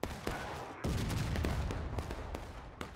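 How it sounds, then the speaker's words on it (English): Civil War artillery in War of Rights during a historical rules event on a hilly map: a sharp cannon report, then a heavy rumbling blast and fading echo with scattered distant musket cracks. "That was a good Arty shot."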